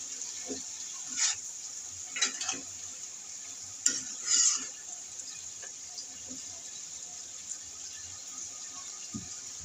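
Vegetables frying in a pan, with pointed gourd among them, give a faint steady sizzle broken by a few short scraping stirs of a utensil.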